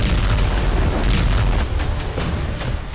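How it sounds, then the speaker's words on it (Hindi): An explosion on the Kerch bridge comes as loud, dense booming and rumbling that carries on without a break for a few seconds. "कर्च ब्रिज पर जोरदार धमाके के साथ बारूदी गुबार उठा।"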